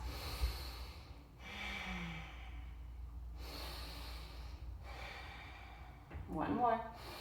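Deep yoga breathing while holding a high plank: a few long, airy inhales and exhales close to the mic, with a sharper audible breath at the end.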